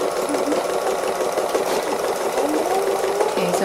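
A domestic sewing machine stitches free motion embroidery on an owl wall hanging, its needle running in a fast, steady, close-up whir that holds unbroken from start to finish.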